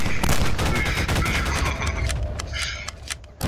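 Dense automatic gunfire from a gun in Garry's Mod, a loud rapid stream of shots with mechanical clacks that thins into scattered bursts toward the end, heard close with no speech.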